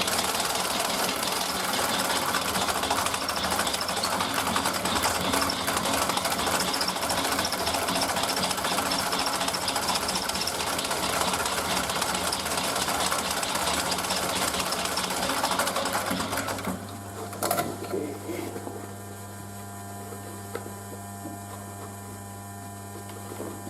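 A sewing machine stitches a canvas and leather bag, running in a continuous rapid mechanical whir with a hum underneath, then stopping near the end, leaving a steady mains hum and a few small clicks.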